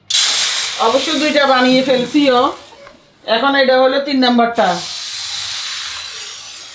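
Egg batter pitha sizzles in a large oil-wiped wok, a steady hiss running beneath someone talking, continuing on its own after she pauses.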